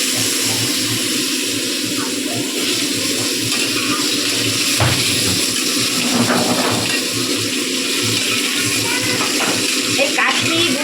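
Potatoes drop into a hot pan already holding cumin for a vegetarian vegetable dish, raising a steady, close, hissing sizzle that runs unbroken throughout, with a voice faintly present.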